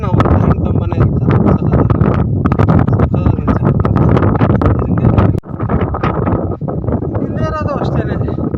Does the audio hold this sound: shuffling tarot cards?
no